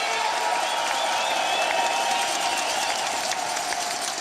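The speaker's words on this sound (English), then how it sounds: "The crowd are getting behind him." A crowd cheers and applauds at a UCI cycling Hour Record attempt, a dense and steady wash of clapping and shouting that stays loud and unbroken throughout.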